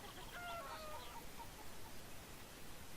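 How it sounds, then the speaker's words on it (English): Chickens in the video game Beyond Eyes cluck softly in a pen, a few faint high calls early on over a quiet, hissy background. "Can I herd these chickens outside of the pen?"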